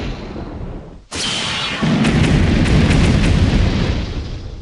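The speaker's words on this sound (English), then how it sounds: "So this is the fire bullet." A fire bullet sound effect from RPG Maker: a sudden loud burst that swells into a sustained roaring, crackling blast lasting a few seconds before slowly easing off.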